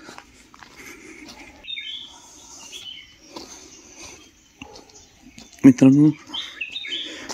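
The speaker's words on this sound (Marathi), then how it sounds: "पाखरांचा आवाज," Birds chirp at dawn around a village, scattered tweets on and off over faint ambient noise, while someone speaks briefly nearby.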